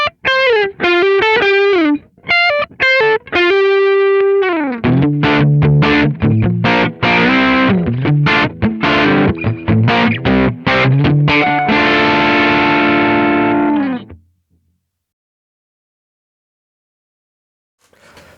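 A driven electric guitar tone through a Green15 amp profile plays loud, close phrases of single notes and chords, then stops abruptly into near silence near the end.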